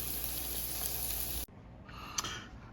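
Chopped onions fry in a hot pan, giving a loud, steady sizzle for about a second and a half before it suddenly drops to a quieter hiss with a brief clink near the end.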